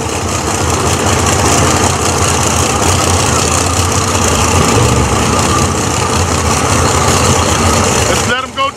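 Nitrous and turbo drag racing car at the start line of a dragway, a loud, dense, continuous engine roar that cuts off abruptly near the end, with an announcer talking over it.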